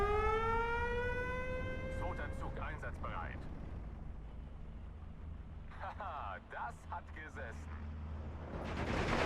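LEFH howitzer defensive artillery fire in the WWII strategy game Steel Division 2: a rising siren-like whine opens over a constant low rumble, then scattered distant booms and cracks through the battle noise.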